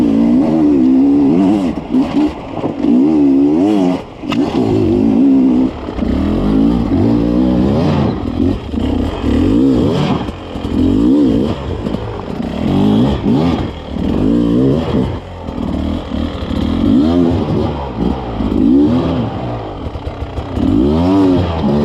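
An enduro motorcycle rides single track with its rear tyre at 1 bar, the engine close and loud throughout, revving up and down in constant throttle surges with some clattering over the terrain.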